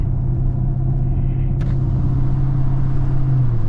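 A Camaro 2SS engine drones steadily from inside the car in traffic, a low, even rumble with a brief sharp click partway through and no rise in revs.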